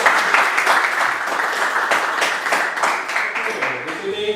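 A classroom of people applauds together, a dense, steady wash of clapping that continues for several seconds at close range.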